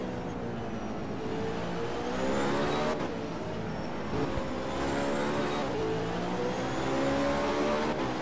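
GTE race car engines from the rFactor 2 racing game roar around the Nordschleife circuit, a steady loud drone with repeated upshifts and rising revs, each surge cut by brief gear-change dips.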